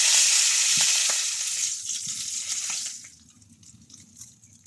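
Fish heads fry in hot oil, browning to a reddish colour for a Bengali Malabar spinach dish. A loud, dense sizzle crackles close up, then drops to a quieter, steady hiss after a few seconds.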